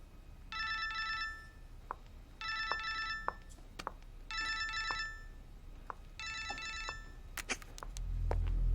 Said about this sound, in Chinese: 钱伟给你打电话了？